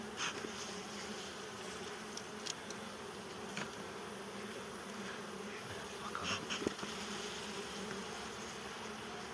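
Honeybees buzz steadily around an open hive being worked for a frame transfer from a strong colony to a weak one, a dense continuous hum with a few brief louder passes near the microphone, no talking.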